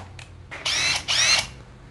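A Makita TD172D cordless impact driver runs in two short bursts of rapid, buzzing hammering after a few brief trigger clicks, then stops, heard up close without any talk.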